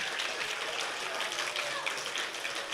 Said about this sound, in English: May I have a round of applause for 5 Watson?